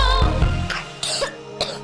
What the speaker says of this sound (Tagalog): Ubo ng anak?